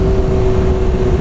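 A Suzuki GSX-R 750 sports motorcycle exhaust drones loudly and steadily for a moment, a deep rumbling hum with a constant throaty tone.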